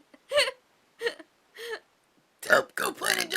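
Loud, drawn-out human burps, three separate belches spaced about half a second apart followed by a longer, rougher run of burping at the end, close and alone.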